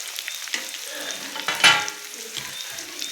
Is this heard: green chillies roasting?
yes